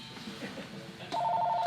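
A phone starts ringing partway through, a steady electronic ring tone that comes in suddenly and keeps on close by in a barber shop.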